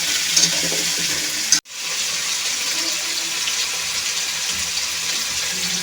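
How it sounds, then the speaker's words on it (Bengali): Potato pieces fry with salt in a hot pan, giving a steady, close sizzle with a faint stir early on. A short drop to near silence interrupts it, then the frying hiss continues unchanged to the end. "দিয়ে দিচ্ছি আলু লবণ পরিমাণ মতো একটু ভেজে নেব আলুটা"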